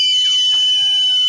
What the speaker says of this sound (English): it should send a message to his buzzer acting as an alarm to go off